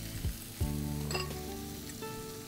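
Garlic tossed into a hot pan beside dark reddish-brown fried liver, sizzling steadily with a couple of stirring scrapes and a light clink of utensil against the pan.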